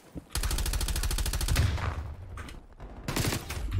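Rapid automatic fire from the LC10 submachine gun in Black Ops Cold War: a loud, evenly spaced burst of shots lasting over a second, a brief pause, then a second shorter rattling burst close up.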